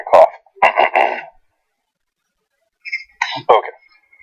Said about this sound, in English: Still got the leftovers from my cough.